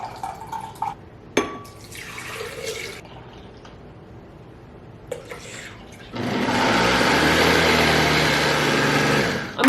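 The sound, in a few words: pouring and mixing almond milk and coconut water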